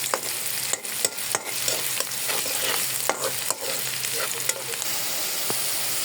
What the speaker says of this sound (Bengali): পেঁয়াজটা একটু ভাজি করে নিই, তারপরে হচ্ছে আমি এখানে সব মশলা দিয়ে দিব